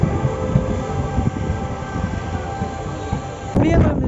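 Onboard a Sri Lankan train pulling into Omanthai station, a rumbling carriage drone with rattles and clatter fills the space, ending in a sharp burst of louder rolling noise.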